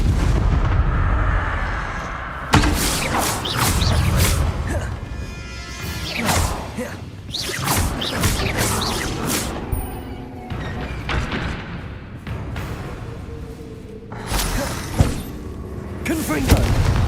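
Repeated Confringo blasting-spell explosions in the Hogwarts Legacy video game, loud booming bursts with whooshes and crashes recurring every couple of seconds amid chaotic combat noise, with a voice speaking in between.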